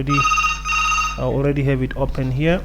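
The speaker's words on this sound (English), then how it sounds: "sorry about that phone ringing" An office telephone rings with a steady electronic bell tone for about a second, then a person starts talking as the ring fades behind the speech.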